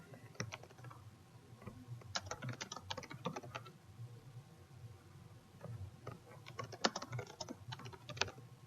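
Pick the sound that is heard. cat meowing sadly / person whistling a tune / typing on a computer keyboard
typing on a computer keyboard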